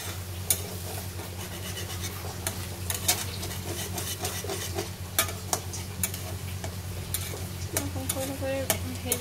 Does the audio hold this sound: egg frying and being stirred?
yes